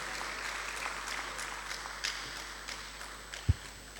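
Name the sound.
applause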